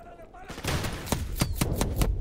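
Rapid gunfire in Call of Duty: Modern Warfare Remastered, a burst of sharp, evenly spaced shots ringing out close by, with a player talking over the shooting.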